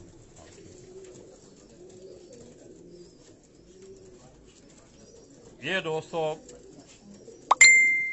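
Pigeons of a prized breed at a Karachi loft give a short run of close, throaty coos against a quiet background, with someone speaking briefly and a sharp metallic ding near the end.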